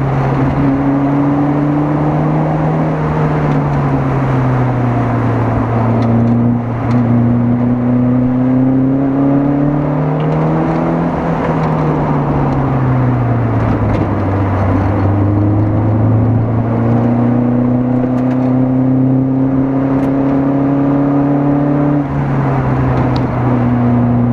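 A Maserati car engine drones loudly and steadily, its pitch sliding up and down as it accelerates and eases off, with no talk over it.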